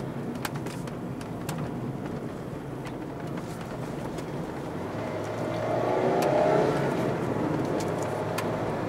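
Mazda MX-5 ND RF GT accelerating at partial throttle, its engine note building steadily and swelling louder near the end amid road and cabin noise, with no voices.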